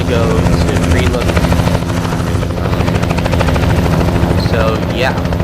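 A helicopter in the truck-driving game American Truck Simulator thumps loudly and steadily, its rotor chop running through the whole stretch while someone talks over it.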